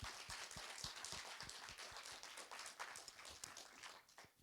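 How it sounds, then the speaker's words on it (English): Audience applause at a data science seminar on official statistics, a steady wash of many hands clapping that holds for several seconds at moderate distance, with no talk over it. "Let's give a round of applause."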